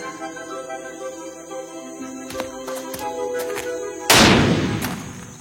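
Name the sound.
gunshot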